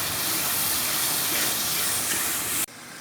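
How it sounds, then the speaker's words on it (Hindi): Spices frying in a pan for a dhaba-style lauki chana dal, a steady loud hiss and sizzle filling the clip before abruptly dropping away near the end. "अब इन मसालों को अच्छे तरीके से भूनते हैं।"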